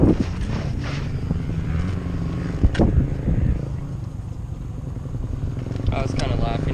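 A 2016 Yamaha YZ250F dirt bike idles high with its idle screw backed out, a steady engine drone running throughout with a brief louder burst near the middle.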